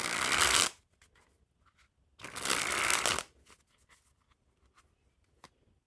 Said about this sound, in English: So some people might have a little bit harder time shuffling these just because of how stiff they are.